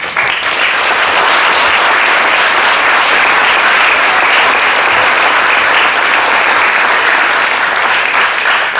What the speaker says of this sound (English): Let's give our students a warm round of applause